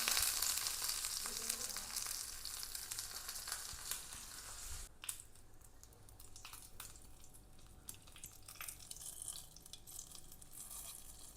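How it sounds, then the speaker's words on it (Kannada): Mustard seeds, dry red chilies and curry leaves sizzle and crackle in a spoon of hot coconut oil for a Kannada lady's finger gojju tempering, a steady close frying hiss with small pops, alone without voices. "ಒಗ್ಗರಣೆಗೆ 1 ಚಮಚ ತೆಂಗಿನೆಣ್ಣೆ ಹಾಕ್ಕೊಂಡಿದ್ದೆ"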